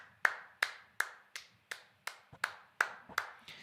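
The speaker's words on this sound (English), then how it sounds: "That'll be the coaching clap." A coach claps hands in steady, sharp, evenly spaced claps, about ten over a few seconds, crisp and fairly close, heard alone with no talk over them.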